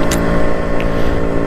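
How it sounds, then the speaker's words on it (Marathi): A Yamaha RX 100 two-stroke motorcycle engine runs hard and close, giving a loud, steady, buzzing drone with faint fluctuations throughout the brief moment. "यामाहा RX 100 या गाडीला लेजेंडरी बाईक का म्हणतात ते आता मला समजतंय, कारण हिचा आवाज"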